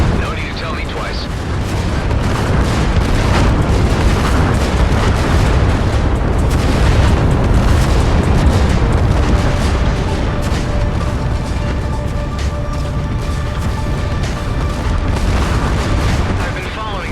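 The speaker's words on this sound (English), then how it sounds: "Vacate this area at once. Explosion imminent." A long, loud rumbling explosion in the space shooter Everspace 2 roars continuously with layered booms and crackling debris, holding strong for many seconds before easing slightly at the end.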